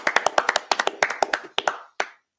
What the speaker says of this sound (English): One final clap for you guys.